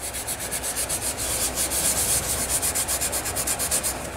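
A Scotch-Brite pad scrubs carbon deposits off the top of a Kohler KT17 engine piston, a loud, close, continuous abrasive rubbing with a fast steady back-and-forth rhythm and no talking.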